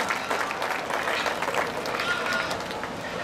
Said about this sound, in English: let's give all the showmen from today a really nice round of applause for a well-deserved job